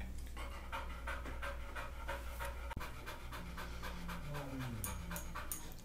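A puppy recovering after an operation pants close up in a fast, steady rhythm of short breaths, with a brief faint voice partway through.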